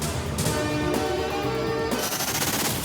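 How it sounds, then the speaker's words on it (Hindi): Fireworks at the PSL cricket opening ceremony, a rapid crackling run of bursts like gunfire that fills the short stretch from start to finish. "आतिशबाजी का मुजाहरा।"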